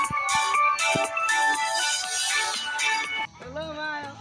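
A mobile phone ringtone plays loudly as a bright, repeating electronic melody, cutting off abruptly after about three seconds, followed by a short rising tonal chime.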